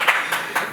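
An audience at a film press meet claps briefly in a few soft bursts, mid-distance and moderately loud.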